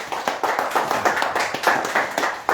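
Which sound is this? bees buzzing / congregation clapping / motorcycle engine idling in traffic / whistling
congregation clapping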